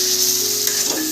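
Onion, tomato and masala sizzle loudly and steadily in a hot pan, a brief, close, continuous frying hiss with no other sounds.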